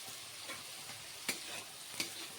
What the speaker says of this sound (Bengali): এবার মশলার সাথে ভালো করে ফুলকপি আলুটাকেও ভেজে নেব